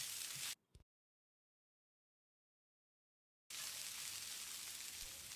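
Grated coconut and poppy seeds roast in a pan for a mutton kulambu, giving a soft, steady sizzling hiss that cuts out into about three seconds of silence before resuming, with no talking.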